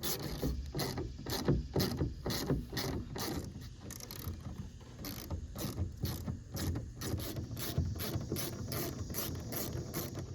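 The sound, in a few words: screws being removed from Toyota 4Runner roof rack rails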